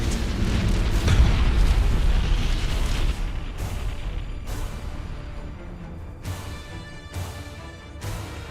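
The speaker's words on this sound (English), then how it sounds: "Initiate Thunderhawk bombardment." Thunderhawk bombardment in the Battlefleet Gothic Armada 2 space battle game, a heavy rolling barrage of deep explosions at first, then separate booming blasts spaced a second or so apart.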